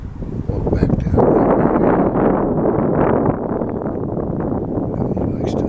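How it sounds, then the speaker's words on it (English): Strong gusts of wind buffet the microphone at an outdoor cemetery, a loud, continuous roaring rush close up that dominates throughout, with some talk beneath it. "Getting a lot of wind blowage."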